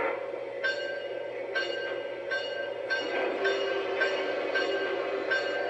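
Bell from the sound system of an LGB 2085 model train locomotive, ringing in a steady, regular rhythm of about seven strikes, clear and close.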